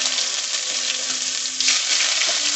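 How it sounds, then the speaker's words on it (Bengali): Ground ginger paste fries in hot oil with spices for a vegetarian soybean and potato curry, a close steady sizzle with a slight surge as it is stirred. "আদাটাকে দিয়ে আমি খুব ভালোভাবে তেলের সঙ্গে নেড়ে নেব"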